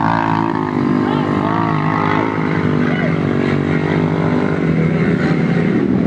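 Motorcycle engine running steadily and fairly loud, with a continuous droning hum and shifting harmonics, while voices talk over it throughout.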